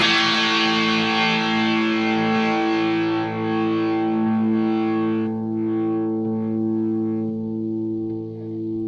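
A single electric guitar chord through a boost pedal rings out, overdriven and harmonically rich, sustaining and slowly decaying over several seconds with no other sounds.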